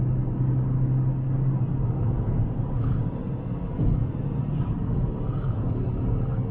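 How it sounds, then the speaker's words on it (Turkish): A 102 hp Seat Toledo 1.6 engine drones steadily from inside the cabin, with a low, even rumble and a humming tone that shifts slightly as the revs change. No distinct blow-off hiss stands out, and no one speaks. "hani blow off varmış gibi bir ses geliyor araçtan"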